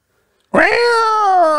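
A person mimics the yowl of cats in heat with one long, loud, drawn-out caterwauling wail sung close to the microphone, holding steady to the end.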